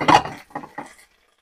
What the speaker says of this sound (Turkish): Yeşil biberimizi ve kırmızı biberimizi içine döküyoruz.